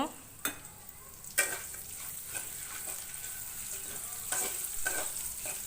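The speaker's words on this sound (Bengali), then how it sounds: "দিয়ে দিলাম তেজপাতা দারচিনি সাদা এলাচ এর মধ্যে দিয়ে দিলাম আমি পেঁয়াজ কুচি পেঁয়াজটা একটু হালকা ভেজে নেব" Chopped onion fries lightly in a pan with bay leaf, cinnamon and white cardamom, a steady close sizzle with a few sharp stirring scrapes and clatters breaking through.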